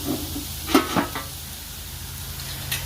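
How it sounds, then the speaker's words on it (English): Pork and broccoli stir fry with soy sauce, olive oil and sesame oil steams in a covered pan, a steady soft sizzling hiss with a few brief louder crackles and a lid clink, no talk. "We're gonna let it steam a little bit more."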